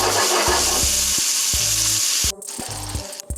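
Duck liver, heart and kidney sizzle steadily in a frying pan, a dense crackling hiss with soft scrapes and knocks of stirring; the frying continues alone at close range.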